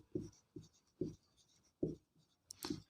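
Marker or chalk strokes on a board as a math question is written, a series of short scratchy bursts in an uneven rhythm, close and clear, with no talking.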